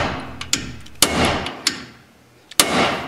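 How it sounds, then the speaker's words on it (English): A small hammer strikes the bolt flange on a brake backing plate, sharp metallic taps in uneven bursts, a couple of light hits then three harder blows, each leaving a short ringing decay, close and alone. "it is possible to get in with a small hammer"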